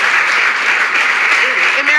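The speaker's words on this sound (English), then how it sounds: "Paul Stanley getting some big applause" A studio audience on Bill Maher's show gives Paul Stanley of KISS big applause, a dense, loud wash of clapping filling the whole moment without a break.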